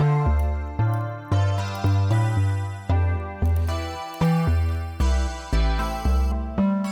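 A MIDI synth demo plays a chord progression over a bassline, with loud, evenly paced sustained chords that change about every half second, each with a sharp attack that decays, and a deep bass moving underneath.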